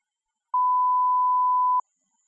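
A single steady censor tone sounds alone, loud and pure, lasting a little over a second and cutting off cleanly, with silence before and after.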